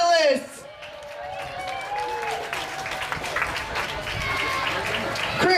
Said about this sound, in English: Round of applause for our Open Ladies finalists.